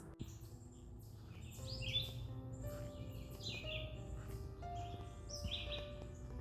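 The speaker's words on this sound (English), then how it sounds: "Can you hear the birds?" Birds chirp and tweet in short repeated calls outdoors on a hike, fairly distant, over a low rumbling background.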